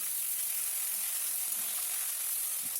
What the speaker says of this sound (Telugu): పచ్చిమిరపకాయలు కరివేపాకు కూడా కొద్దిగా వేగాలి.